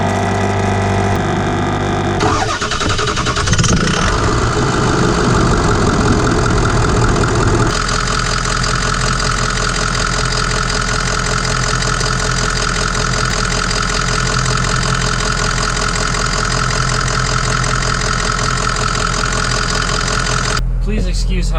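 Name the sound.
2004 Ford F-250 engine starting and idling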